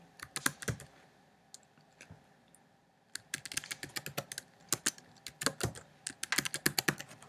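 Fingers type on a computer keyboard to enter a password while setting up WordPress on a self-hosted server, producing quiet, close clicks in uneven bursts with brief pauses and no talking.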